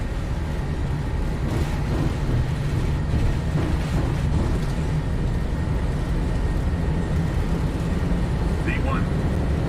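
A PMDG 737-800 in the Prepar3D flight simulator runs its engines at takeoff thrust, a steady loud broadband roar holding throughout, with cockpit callouts spoken over it.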